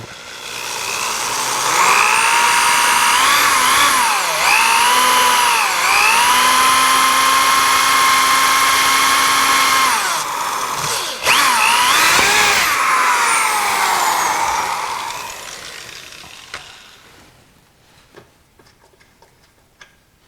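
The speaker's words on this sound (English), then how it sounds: "And then we'll drill right straight in." A drill bores straight into wood spinning on a lathe, a loud sustained whine that bends in pitch as the bit feeds in, pauses briefly, then runs again before winding down to quiet ticking.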